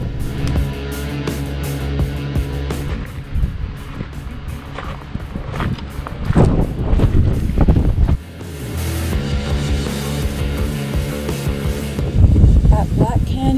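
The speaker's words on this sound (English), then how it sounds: "but it's windy here" Wind gusts buffet the microphone at the rim of the Black Canyon of the Gunnison, rising and falling continuously, with an idling motorcycle engine humming underneath.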